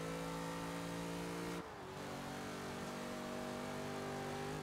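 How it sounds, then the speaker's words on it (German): A 1969 Chevrolet Camaro SS in Forza Horizon 3 holds a loud, sustained engine note at high revs. The note drops briefly during a quick upshift, then climbs again and carries on steadily to the end. "Wir haben schön hohe Drehzahlen, wenn wir hochschalten."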